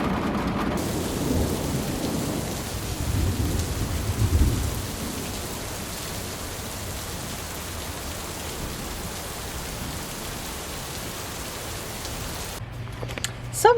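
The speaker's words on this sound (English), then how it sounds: "right now I'm keeping an eye on the storm and making sure everything is gonna be okay" A thunderstorm outside an RV in Louisiana: rumbling thunder swells in the first few seconds, then steady heavy rain hisses on for the rest, loud and even with no voices.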